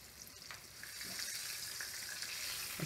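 Chicken frying in oil, browning on one side, keeps up a soft, steady sizzle that grows a little louder and holds, with no talking.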